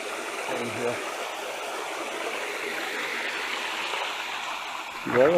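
A river flows steadily near the Arekkal waterfalls, its broad, constant rush of water heard up close and alone, with a faint voice surfacing at the very end.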